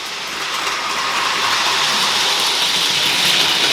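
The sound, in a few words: model train reversing to reposition at station 2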